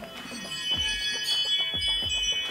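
A Ring video doorbell chimes after detecting motion, steady tonal ringing close by and clearly heard over soft low background thumps, with no one speaking.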